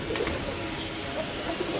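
Pigeons coo softly in a rooftop coop with young squabs, a low murmuring call repeating under steady background noise, with a few brief higher chirps near the start.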